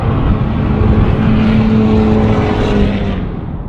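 A gas truck with a 6.0 engine rumbles past close by, a loud sustained drone that holds steady and then eases off slightly as it moves away, with no talking.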